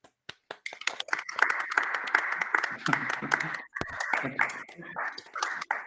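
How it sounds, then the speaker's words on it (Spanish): Applause at a thesis defense with every microphone opened: scattered, uneven claps from many separate mics overlap, some close and sharp, others thin, with voices and background chatter mixed in. "Abrir los micrófonos todos y gran aplauso."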